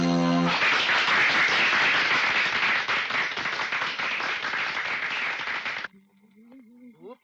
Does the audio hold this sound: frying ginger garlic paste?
no